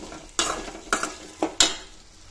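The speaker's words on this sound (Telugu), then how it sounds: "ఇలా ఒక ప్యాన్ పెట్టి కొంచెం ఆయిల్ వేసి ఆ బెండకాయల పీసెస్ అంతటిని మనము గోల్డెన్ కలర్ వచ్చేటట్లు ఫ్రై చేసుకుందాము" Okra pieces frying in oil in a pan, heard as a low sizzle broken by four sharp metallic clanks and scrapes of a spoon stirring against the pan, close and without speech.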